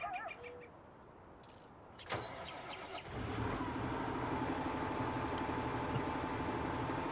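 A tractor in the farming video game Farming Simulator 19, shown emitting exhaust smoke, starts up after a quiet stretch and a short mechanical clunk, then settles into a steady, loud engine drone with a faint whine.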